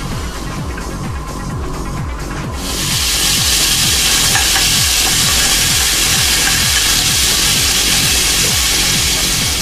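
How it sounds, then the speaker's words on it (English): Garlic toasting in olive oil in a pan, a bright steady sizzle that swells louder partway through, close, with a rhythmic scraping stir running underneath. "I'm going to toast some garlic."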